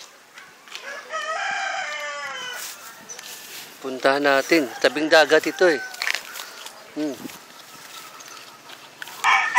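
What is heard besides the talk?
birds calling by the seaside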